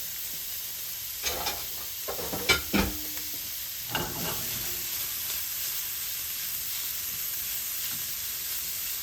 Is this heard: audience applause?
no